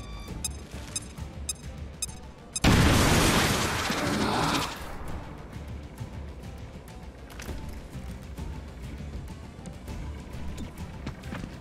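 A frag grenade goes off in the XCOM Chimera Squad video game: one loud, sudden blast with a roaring tail that fades over about two seconds, set against ongoing game background noise.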